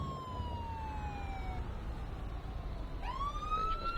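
A video game ambulance siren wails with a long falling tone, then sharply rises again, steady and fairly faint over a low rumbling background.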